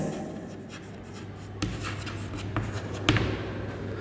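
Chalk or marker scratches across a classroom board during a lesson, quiet strokes in short irregular bursts with a couple of sharper taps, no talking over it.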